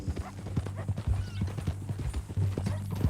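Horse hooves clip-clop at an easy walking pace in Red Dead Redemption 2, a close, steady series of hollow thuds over a low background hum.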